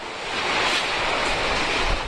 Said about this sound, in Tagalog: Nandito tayo ngayon sa may pier ng Tacloban at napakalakas na ng hangin